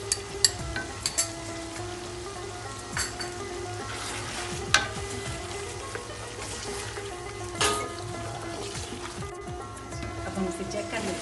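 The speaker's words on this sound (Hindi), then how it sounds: "अब हम इसमें दही और मलाई का मिक्सर शामिल कर लेते हैं और इसे दोबारा भूनेंगे हम" Chicken frying in a pan for methi malai chicken after a yogurt and cream mixture is added, a steady close sizzle with stirring scrapes and occasional clanks throughout, with talk over it.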